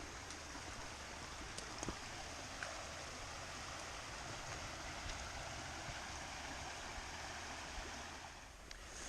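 The Quiddy River flows as a steady, broad rush of water at the foot of a steep trail descent on the Fundy Footpath in New Brunswick, continuous and moderately distant, with a few faint clicks and no talking.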